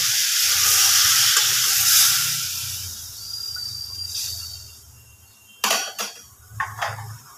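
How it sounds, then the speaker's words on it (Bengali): Water poured into sizzling spiced curry for kachori in a hot pan, a loud hissing burst of steam that gradually fades, followed near the end by several sharp clinks and scrapes of utensils. "এবার এতে জল দিয়ে দেব।"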